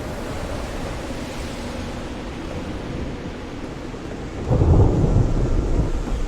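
Rain pours steadily during a thunderstorm in the video game Call of the Sea, then a deep roll of thunder swells loudly and rumbles on.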